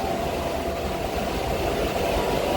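Steady low rumble and hum inside an empty, idling passenger train on the Agartala to Udaipur line, a constant engine drone filling the carriage with no voices.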